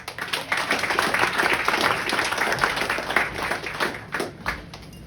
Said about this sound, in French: On applaudit Alexis, s'il vous plaît.